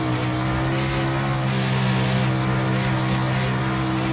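A winged sprint car engine in iRacing roars at full throttle, a loud, steady, harmonically rich drone held continuously with no talking.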